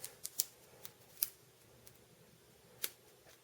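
Scissors snip through a colostomy bag in a few sharp, quiet cuts, with irregular crisp clicks spaced across a near-silent background.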